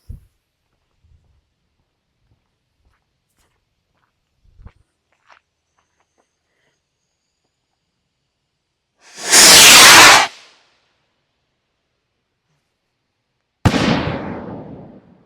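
Two Super Rocket fireworks go off, each a loud rushing blast of launch and burst, the first longer and stronger around the middle, the second sharper near the end, with faint footsteps and quiet gaps before them.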